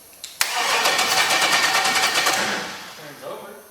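An LS V8 engine fitted in a Miata-based kart cranks over without fuel on a new Optima battery. A loud, steady, rapid starter churn lasts about two seconds, then winds down.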